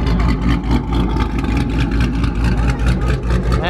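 A Dodge Hellcat Scat Pack's engine rumbles deep and loud close by, swelling and dipping through repeated revs with a throaty, pulsing low end and no talk.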